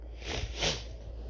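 A person with allergies gives a single sniffle, a brief nasal intake of breath, heard close against a steady low hum.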